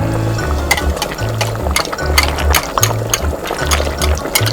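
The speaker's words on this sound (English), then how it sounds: "First, we pour water into the pan and bring it to a boil." Water pours steadily into a cooking pan, a continuous splashing gush with gurgling, fairly loud and close, with no speech.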